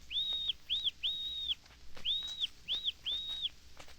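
A duck call imitates a pintail's piping whistle: six clear, high whistled notes in short and longer bursts with brief gaps, alone and fairly close.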